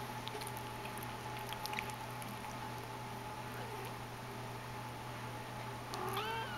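A Persian kitten meows faintly close by at the very end, a few rising cries over a steady indoor hum.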